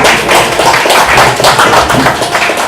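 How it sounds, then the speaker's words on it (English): An audience at the Take It Easy event applauds the cast of the movie Ishqedarriyaan, with dense, loud, continuous clapping that fills the whole moment at close range. "So a round of applause for the star cast here who have taken out their valuable time and come to us"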